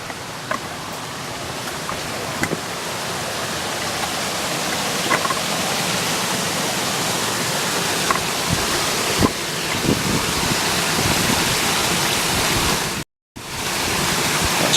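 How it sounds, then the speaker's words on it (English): Small waterfall beside a hill path at night, a steady broadband rush of falling water filling the whole stretch with a few faint knocks on top, briefly cutting out near the end. "Sounds like there's a bit of a waterfall down here."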